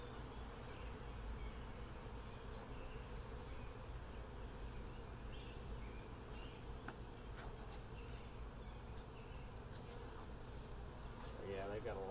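Honey bees buzz around an open hive while a super is added, a steady, dense insect drone at moderate level with a faint voice in the background.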